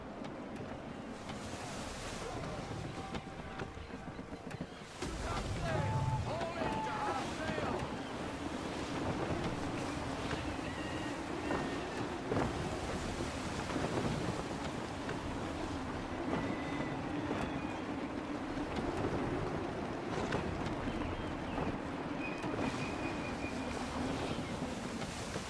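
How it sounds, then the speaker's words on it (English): Gusty wind sweeps over the open sea in Assassin's Creed III Remastered while a sailing ship moves through the water, a constant full roar of wind and surf that never lets up. "Wind looks to be shifting. Stay alert, Connor. Gusty winds can be difficult to manage."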